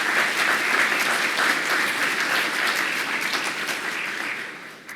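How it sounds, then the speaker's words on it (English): A full room of diners clapping at a college awards dinner, steady dense applause at moderate volume that holds evenly before tapering off near the end. "Let's give them one more round of applause."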